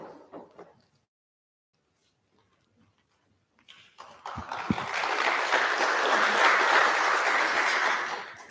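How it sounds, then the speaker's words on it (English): An audience at a conference presentation breaks into steady applause after a few seconds of quiet, the clapping loud and sustained to the end, preceded briefly by a voice. "If you could give him a big round of applause."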